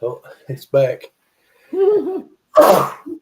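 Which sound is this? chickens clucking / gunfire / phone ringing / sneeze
sneeze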